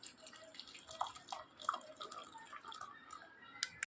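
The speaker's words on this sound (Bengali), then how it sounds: "এবারে আমি চাটা সবারই কাপে কাপে ঢেলে নিচ্ছি।" Tea is poured from a pot into several cups, giving soft trickles and drips with brief pauses between cups, close and quiet in a home kitchen; no talking.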